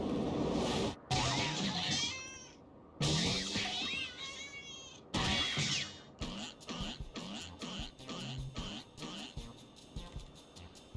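A cat meows in the video game Final Fantasy XIV: Heavensward, several drawn-out, wavering meows in separate bursts, followed by a choppy run of short clicks and effects sounds.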